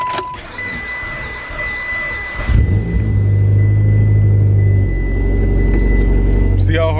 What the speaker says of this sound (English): See how hard that was for me to crank over?